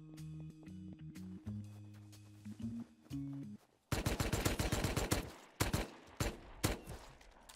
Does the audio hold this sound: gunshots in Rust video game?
yes